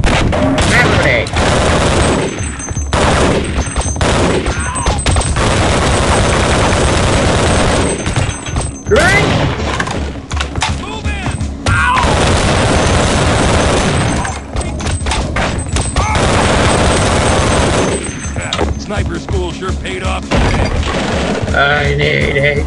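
Grenade explosions and rapid bursts of gunfire in the Half-Life: Opposing Force video game, loud and dense throughout with brief lulls, heavy booms mixed with rattling automatic fire.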